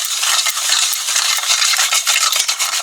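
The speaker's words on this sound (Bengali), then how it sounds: "এবার প্রথমেই এই দুধের সাথে চিনিটাকে ভালো করে মিশিয়ে চিনিটাকে গলিয়ে নিতে হবে" Sugar being stirred into milk to dissolve it for an eggless semolina sponge cake, with a spoon scraping and clinking against the bowl in a rapid, continuous rhythm, close up and alone.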